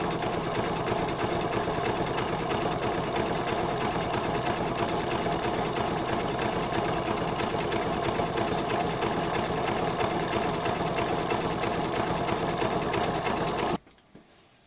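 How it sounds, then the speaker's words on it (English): A sewing machine runs steadily and loudly, top stitching the slip pocket of a slim wallet in one continuous burst of even stitching, then stops abruptly near the end. "We now need to top stitch the slip pocket."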